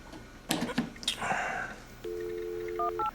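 A telephone line dialing out for a dial-up modem: a quick burst of handling noise, then a steady dial tone followed by two short DTMF beeps, loud and close.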